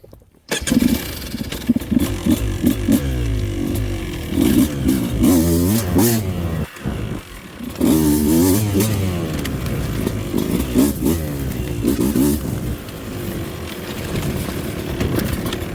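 Beta 200 race edition two-stroke motorcycle with an RK head, ridden: loud, close engine revving up and down with raspy rises and falls, fluctuating throttle throughout.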